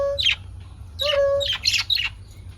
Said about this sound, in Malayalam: കിളിക്കുട്ടന്മാർ ഇവിടെ ഹാപ്പി ആയിട്ടിരിക്കുന്നു